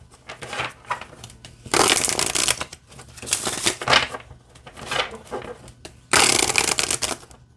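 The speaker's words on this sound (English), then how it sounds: "let's see how they shuffle" A deck of bird-themed oracle cards being shuffled in repeated riffles and bridges, bursts of crisp fluttering card slaps close up, with a couple of especially loud full-deck riffles separated by quieter handling.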